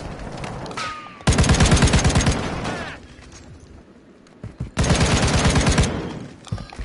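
Automatic gunfire from the Call of Duty Modern Warfare 2 beta comes in two loud, rapid bursts separated by a quieter gap with fainter shots and game ambience.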